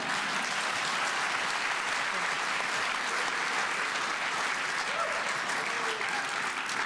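Sustained, loud audience applause and cheering at a 2017 business awards ceremony, a dense, even wash of clapping from a large crowd lasting throughout.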